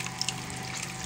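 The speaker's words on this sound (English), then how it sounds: "get the water out or separate the water from the leaves" Water draining through a sieve from zobo leaves: a short, quiet, continuous trickle and splash of liquid running off, with no talking.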